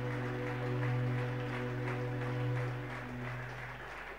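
A church congregation applauding during a Sunday service, a broad continuous wash of clapping that swells and eases over a sustained low instrumental tone.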